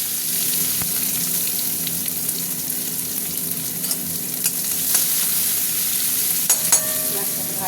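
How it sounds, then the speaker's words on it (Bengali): Onion fries in hot oil in a wok, with bay leaf and dried chilli, making a steady close sizzle with occasional light stirring clicks and scrapes. "পেঁয়াজটাকে ভাজা ভাজা হোক।"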